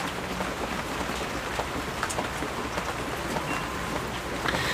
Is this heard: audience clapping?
no